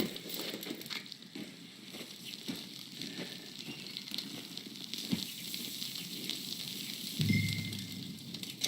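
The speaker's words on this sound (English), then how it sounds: "Cook that rabbit, then. They're delicious on an open fire like this." Rabbit meat sizzling and crackling over an open campfire in Red Dead Redemption, a steady low hiss with faint pops and a brief louder flare near the end, no talking.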